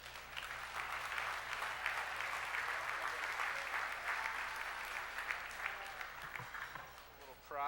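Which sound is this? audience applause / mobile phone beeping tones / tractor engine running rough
audience applause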